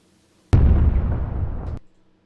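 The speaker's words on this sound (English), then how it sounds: "He's got that explosion at the end, like adds that impact" One loud explosion sound effect bursts suddenly with a heavy boom, then rumbles and decays for over a second before cutting off, with near silence on either side.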